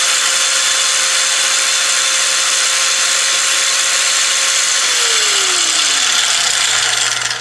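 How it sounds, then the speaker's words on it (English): An angle grinder without speed control runs at full speed while powered by a 600W portable power station, a loud, steady high whine that winds down in pitch near the end. "Here's an angle grinder."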